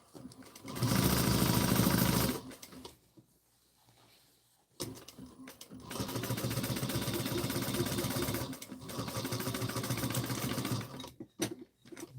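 A sewing machine stitches a bag lining closed in two steady runs, a short burst and then a longer stretch, with a brief quiet pause between them and close, even motor whir.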